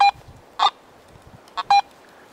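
Metal detector signal tones as the coil sweeps over a steel bottle opener: short, clear electronic beeps in quick pairs against a faint low rustle.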